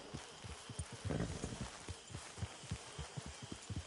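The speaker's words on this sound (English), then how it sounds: "Hitch your horse." A horse in a video game walks with steady, evenly spaced clip-clop hoofbeats under a faint background hum, close and moderately quiet.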